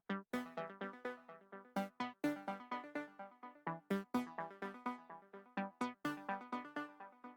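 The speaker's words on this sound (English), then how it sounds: "I pulled up this synth ARP out of Xband and I played the exact same chords on top of it" ARP synth patch from Xband arpeggiating a chord progression in quick plucky repeated notes, bright and bouncy, close and solo with a steady rhythmic pulse and no voices.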